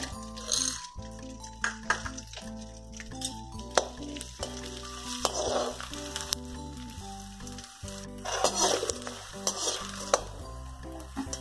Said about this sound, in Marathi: डिंक तळून घेते